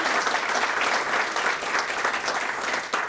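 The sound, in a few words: audience applause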